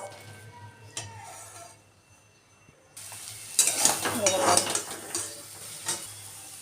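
A spatula scrapes and stirs a boiled potato mixture in a wok amid a soft sizzle, after a quieter opening with a few light knocks.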